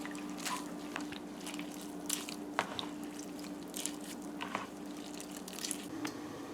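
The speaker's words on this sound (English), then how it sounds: "So we're gonna extract our coconut milk now" Grated coconut is squeezed by hand to extract coconut milk, giving close, wet squishing and dripping sounds in irregular bursts over a faint steady hum, with no talking.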